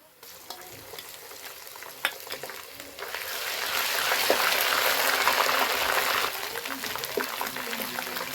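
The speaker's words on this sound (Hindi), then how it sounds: "अब इसे 1 से 2 मिनट के लिए भून लेंगे ताकि लहसुन का स्मेल जो है ख़त्म हो जाए।" Golden onions frying with ginger-garlic paste for a chana dal, a steady close sizzle that swells louder in the middle and holds, with a few scraping stirs and small pops on top.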